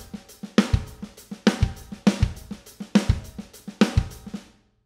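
A rock drum pattern on a kit, pounding kick drums and loud snare backbeats repeating in a tight, driving cycle with busy cymbal wash, played alone up close for about five seconds before stopping.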